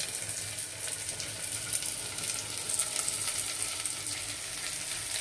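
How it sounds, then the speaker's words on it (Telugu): Carrot added to a pan of fried onions sizzles steadily and close by, a constant bright hiss with faint stirring and no voices. "ఒక క్యారెట్ కూడా వేస్తున్నానండి."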